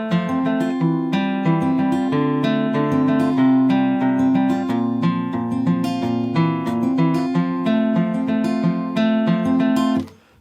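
A guitar plays the intro line of a song, notes plucked in a steady flowing rhythm with chords ringing underneath, ending abruptly at the close.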